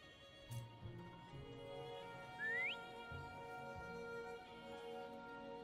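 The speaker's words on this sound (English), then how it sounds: "Try whistling." A short rising whistle from a character in the video game Wuthering Waves, calling a companion named Foam, sounds once over steady game music and ambient tones.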